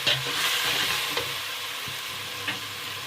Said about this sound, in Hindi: अब हम इसमें हरी मिर्चें डाल देंगे 4 से 5 अदद। इसको फ्राई करेंगे हल्का सा।